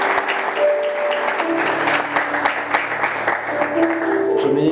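A church congregation applauds the pastor, sustained dense clapping from a large crowd filling the room throughout, with tonal music and voices underneath.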